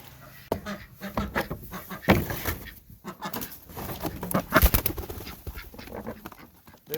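Chickens clucking and squawking inside a homestead coop in the morning, a busy overlapping chorus of close, loud calls with rustling and movement throughout.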